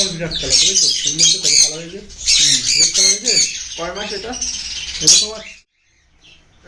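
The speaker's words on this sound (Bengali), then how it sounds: "বন্ধুরা দেখুন এই সুন্দর সুন্দর সানকুনের পাখিগুলো" Sun conure parrots for sale squawk loudly and repeatedly, harsh shrill calls in rapid bursts close by, then falling quiet at the end.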